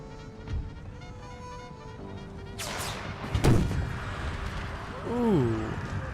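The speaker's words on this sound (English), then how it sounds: "One last round from the howitzer." Howitzer artillery in the video game Empire: Total War (Brothers vs. Brothers mod) fires a round, a loud booming blast near the middle among scattered distant cannon fire and battle noise, with a voice talking over it.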